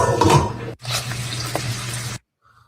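Tap water runs steadily into a kitchen sink or pot while eggs are being cooked, a close, continuous splashing stream with a low hum, cutting off abruptly near the end into near silence.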